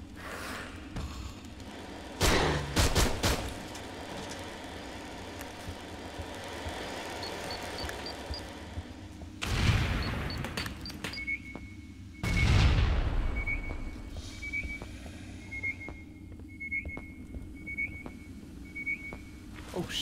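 Gunfire and heavy blasts go off in the video game Aliens: Colonial Marines, with several loud booming shots spaced apart over a low rumble and a series of repeating electronic beeps.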